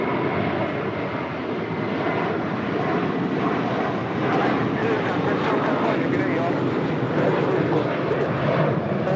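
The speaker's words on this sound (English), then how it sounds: "That is American Airlines Flight 2 departing to JFK on an A321" An American Airlines A321 jet departs from LAX with a broad, steady roar of engines, fairly distant and continuous, while voices talk over it.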